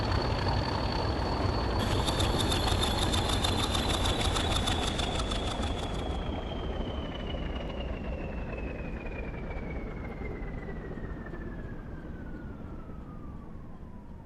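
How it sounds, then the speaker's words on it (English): An LMS twin diesel locomotive in Train Simulator Classic shuts down, a steady engine drone with a high whine that slowly falls in pitch and a buzzing rattle that cuts out partway, the whole sound fading gradually. "we'll shut down the engine. Let's have a listen to the shutdown, shall we?"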